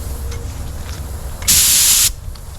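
A single burst of about half a second from a spray gun laying a final coat of gold pearl paint over Rust-oleum Turbo Sunrise Red, a loud close hiss that cuts off sharply against quiet surroundings.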